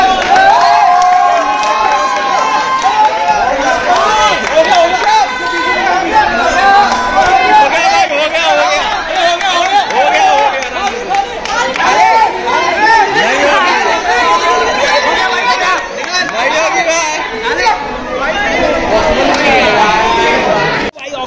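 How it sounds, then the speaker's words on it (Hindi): Crowd chatter fills a packed college fest at Motilal Nehru College during Combuzz'23, a loud, dense babble of many overlapping voices that continues without a break, with occasional whoops rising above it. "पता नहीं इतनी भीड़ भड़ाका"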